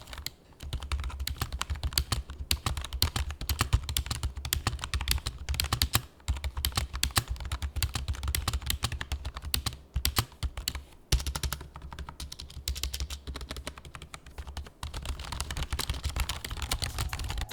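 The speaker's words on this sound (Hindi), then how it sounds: "यहाँ पे कीज बहुत ज़्यादा साइलेंट है, आपको पता भी नहीं चलने वाला कि आप टाइप करो।" Typing on a quiet membrane gaming keyboard makes a steady, rapid stream of soft, muted keystrokes that run close and continuous, with only a few brief pauses.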